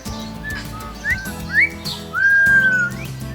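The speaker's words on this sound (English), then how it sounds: "whistle along with a very rare kakako" A rare North Island kokako in a New Zealand aviary gives clear, sliding whistled calls, answered by a person whistling along, several rising notes close and loud over a low background hum.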